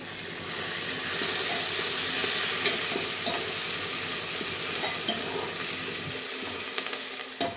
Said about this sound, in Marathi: कढीपत्ता आपल्याला चांगला कुरकुरीत होईपर्यंत तळायचा आहे त्यामध्ये